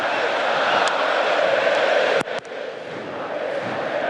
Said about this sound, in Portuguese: o canto da torcida rubro-negra está encobrindo qualquer diálogo que possa ocorrer aí